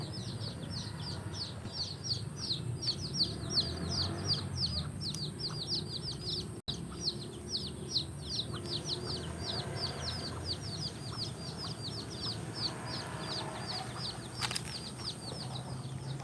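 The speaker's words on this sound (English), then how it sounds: "Mama with her chicks." Mother hen with her chicks: a steady stream of high, rapid peeping from the chicks over low clucking and rustling, continuous and fairly close.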